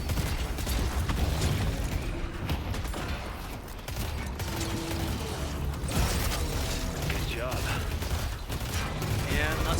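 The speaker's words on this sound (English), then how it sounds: "we just start shooting the Walker here" Dense, continuous gunfire and mechanical clatter in the game Deadlock as players shoot the Walker, with bursts, impacts and ability effects layered into a busy mix.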